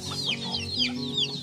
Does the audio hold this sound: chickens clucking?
yes